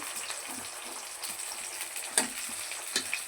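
Onions go into hot oil in a pan, producing a steady soft sizzle and crackle with a few sharper pops, close and moderately loud, with no talking.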